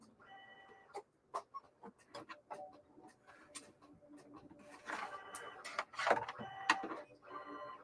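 A computerized cutting machine working through a sewing template gives off quiet, irregular ticking and clicking bursts with short whirring runs of the motor, close by in a still room, with no talk.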